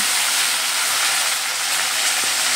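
Onion paste frying in hot oil in a pan for malai chicken, a loud, steady, dense hiss and sizzle running continuously and close, with no talking.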